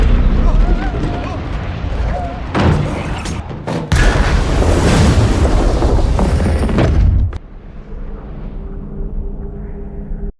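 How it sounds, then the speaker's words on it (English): Explosions in the film Arrival, a long, loud rumbling roar of blasts and booms lasting several seconds before dropping to a lower sustained drone, with people talking over it. "Why would they throw explosives up there?"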